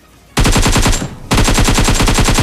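Rapid full-auto AK rifle fire in a shooting video game, two loud sustained bursts of evenly spaced shots separated by a short pause, with no talking.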